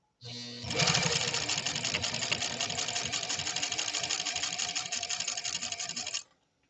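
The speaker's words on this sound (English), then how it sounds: "So we're sewing, I'm only guessing, probably about 10 to 12 stitches per inch" A vintage sewing machine, a PFAFF 130-6 or Singer 201-2, sews at about 10 to 12 stitches per inch with a loud, close, fast rhythmic whir and needle clatter that starts suddenly, runs steadily for about six seconds and stops.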